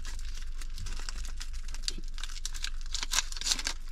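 Crinkly plastic wrap is peeled off a tuna mayo sushi sandwich, giving a run of close, quiet crackles and tearing rustles with brief sharper snaps near the end.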